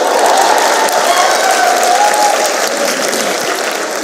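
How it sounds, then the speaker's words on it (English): A large crowd at an independence day celebration applauds, a loud, continuous roar of clapping that stays full and steady from start to finish with no clear talk. "Clap for yourself for looking like that."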